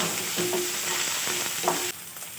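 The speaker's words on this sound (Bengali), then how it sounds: "লঙ্কার গুঁড়ো জিরে গুঁড়ো মশলাটা ভালো করে কষিয়ে নেব" Chili and cumin powder masala frying in a pan while being stirred for a stuffed pointed-gourd dish, a close, steady sizzle with faint scraping of the spoon, ending with a slight drop in level, no voices.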